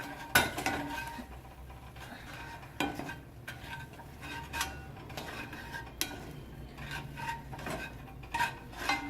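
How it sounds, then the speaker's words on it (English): A spoon scrapes and clinks against a pot as rava (semolina) is stirred vigorously into water for kesaribath, giving irregular metallic taps and scraping rubs at close range with no talking. "I'm slowly adding the rava into the water, and I'm mixing vigorously so that it doesn't become a lump"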